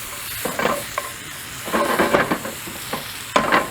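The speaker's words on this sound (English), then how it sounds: "We're gonna stir this around here now." Garlic sizzles and hisses in a cast iron pot for chicken soup, with spoon-stirring scrapes in uneven bursts that rise and fall over a steady frying crackle, close and fairly loud.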